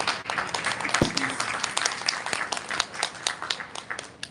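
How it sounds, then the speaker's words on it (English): An audience applauds at a live communications event, a steady patter of many hands clapping that carries on throughout, with a single sharp knock partway through. "I think this really needs to be applauded."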